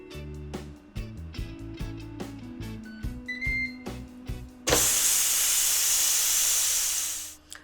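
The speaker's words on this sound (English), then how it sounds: "once the steam is released and the button is down in the back" A Ninja Foodi pressure cooker beeps and clicks through a few tones, then a loud, steady rush of hissing steam bursts out and continues for several seconds before tapering off.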